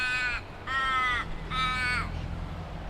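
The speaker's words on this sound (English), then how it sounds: "The sound of Western Australia, the crows that are crackers." Crows in Secret Harbour, Western Australia, give three drawn-out nasal caws in steady succession, loud and fairly near, over faint outdoor background noise.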